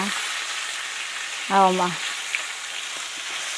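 Onions frying in a pan alongside cooked salmon, giving a steady faint sizzle throughout, with a brief spoken exclamation partway through.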